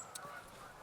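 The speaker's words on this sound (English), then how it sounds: "I apologize for all of the flying geese" Geese honk once or twice, faint and distant, as they fly over a lake in early winter, set against a steady low background hum.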